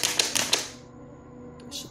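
Crinkling Aqua plastic water bottle on a mountain hike: a quick burst of sharp crackling clicks, then a faint fading hiss, quiet and close with no talking.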